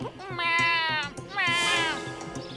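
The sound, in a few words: cat meowing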